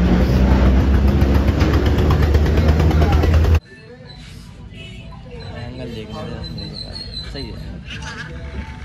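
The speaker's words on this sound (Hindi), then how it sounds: "ये मोटो blogging sports bike Bajaj Platina" A Bajaj Platina motorbike engine idles loudly and close by with a steady throb, then cuts off abruptly partway through, leaving quieter background noise.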